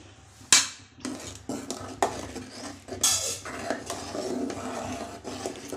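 A spoon stirs a sago mixture for sago fryums in a thick-bottomed pot, giving repeated irregular clinks and scrapes of metal close by, with no talking.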